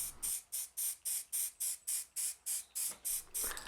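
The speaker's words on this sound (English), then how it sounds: "spraying into the letters with black paint" A can of black spray paint fired in about twelve short, evenly spaced bursts into the letters of a hand-carved sign, each hiss sharp and close with brief silences between.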